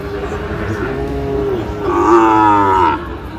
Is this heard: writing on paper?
no